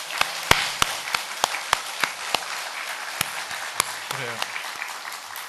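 A small church congregation at an Easter new-life revival service claps in scattered, sharp, evenly spaced claps rather than a full ovation, with a voice briefly speaking over them.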